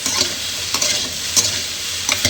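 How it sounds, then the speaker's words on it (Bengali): Okra sizzles steadily in a hot pan with salt and turmeric, with a few sharp scraping stirs breaking through the frying hiss at close range. "এখানে আমার ভিন্ডিটা ভাজা হবে, শুধু ভাজবো আমি নুন হলুদ দিয়ে"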